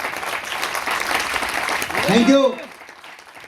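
An audience at a talk gives a burst of hand clapping that swells for a couple of seconds and then dies away, after which a voice speaks briefly.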